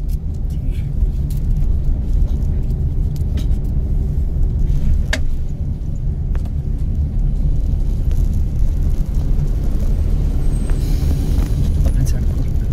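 A car engine under throttle while being driven, a steady close low rumble throughout, with people talking over it.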